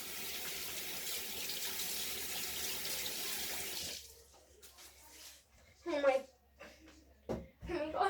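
A bathroom tap runs in a steady hiss of water into a sink for a few seconds, then shuts off, followed by someone speaking nearby.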